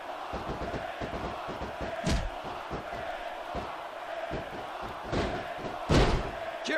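Arena crowd in the WWE SmackDown vs Raw 2006 wrestling video game keeps up a constant roar, with occasional louder swells and thuds rising over it.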